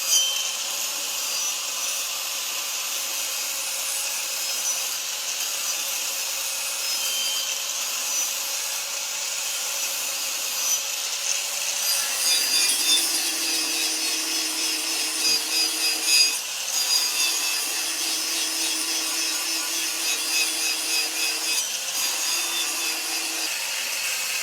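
An old man grinds an axe at a sharpening wheel at a rural market, giving a continuous harsh, high scraping rasp that holds steady and loud for the whole stretch, with a slight shift in pitch midway and no speech.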